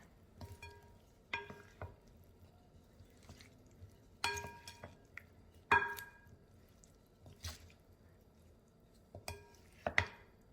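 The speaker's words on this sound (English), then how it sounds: "now you're just going to combine and mix everything" Pasta salad with grated Parmesan being stirred and tossed in a bowl, giving soft intermittent scrapes and clinks of a utensil at close range, quiet and irregular with no talking.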